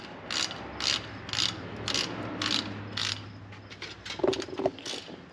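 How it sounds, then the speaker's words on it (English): A ratchet clicks in short bursts while turning bolts on the wheel bearing of a 1997 Ram 1500 4WD truck, about seven quick rhythmic runs close up and fairly faint, then a few louder metallic knocks. "But it's not bad when you can get a ratchet in there."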